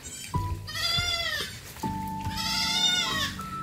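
Hybrid goats bleat at their farm hut, two long wavering calls close to the microphone, one after the other.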